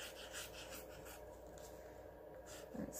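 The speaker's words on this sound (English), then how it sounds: "It's not like a pen, you know, it's a marker. So let's write," A thick marker writes across paper during a craft session, giving a continuous soft scratchy rubbing with a few brief strokes, close and fairly quiet with no voices.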